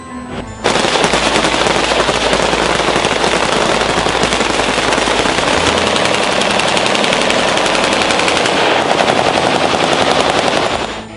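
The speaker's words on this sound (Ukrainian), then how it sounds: "Ці постріли в честь товаришів по службі, які не змогли вийти з оточення." Sustained rapid automatic gunfire from a military volley salute, loud and close, rattling continuously for about ten seconds before cutting off.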